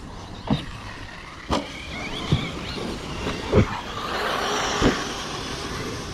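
A small Porsche 4S rolls along with a steady road and engine rumble throughout, broken by about five short, sharp thumps or clunks spaced a second or so apart, with no talking over it.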